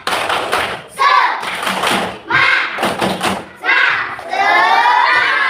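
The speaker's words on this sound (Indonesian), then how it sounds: "kita melakukan tepuk semangat terlebih dahulu" A third-grade class does a tepuk semangat cheer before a scout-emblem lesson: loud, rhythmic bursts of hand claps and thumps alternating with children's chanted voices, close and energetic.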